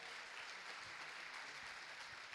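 Faint, steady applause from a church congregation, a dense wash of many hands clapping at a distance with no voices on top.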